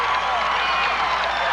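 Basketball crowd at a Thomas Jefferson game roaring and cheering after a two-handed slam dunk, a steady loud wash of voices and applause with an announcer talking over it.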